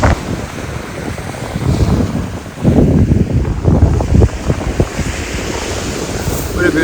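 Ocean waves wash onto a beach on Feridhoo Island in the Maldives while strong wind buffets the microphone, producing a steady rushing roar with surging swells and gusty low rumbles throughout.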